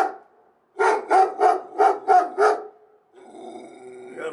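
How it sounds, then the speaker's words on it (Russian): A dog barks in a quick run of about six loud, close barks at a cargo port, then a lower rumbling growl-like stretch follows. "гавкаешь. Хороший собака."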